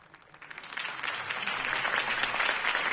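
A crowd breaks into applause after a campaign speech in a Batman video game, clapping rising quickly from a light patter into a sustained, thick wash of many hands.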